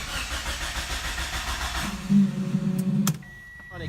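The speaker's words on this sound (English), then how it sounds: "let me turn it on so you guys can hear how terrible this thing sounds" Toyota Supra engine cranking with a rhythmic starter chug, then catching roughly into a brief uneven run before dropping back, close up with no talk.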